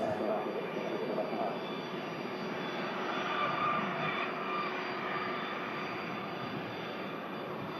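A Boeing Dreamliner jet taking off from runway 05L at Manchester Airport: a continuous, loud, broad engine roar that holds steady throughout without fading.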